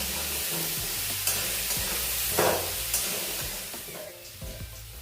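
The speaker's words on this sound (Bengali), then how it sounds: "হলুদ গুঁড়ো দিয়ে আলুগুলো লাল করে ভেজে দেবো।" Potatoes with salt and turmeric powder fry in oil in a pan, a moderate continuous sizzle broken by occasional spoon scrapes and stirring, with no voices.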